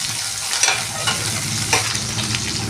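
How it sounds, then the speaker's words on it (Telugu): Green chillies frying in hot oil in a pan for a colocasia fry, a steady loud sizzle with a few stirring scrapes rising above it, close up and with no voices. "పచ్చిమిర్చి వేస్తున్నాను"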